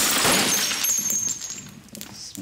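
Frozen onion smashed into pieces, a sharp crunching shatter at the start with brittle, glassy tinkling fragments that scatter and fade over a couple of seconds.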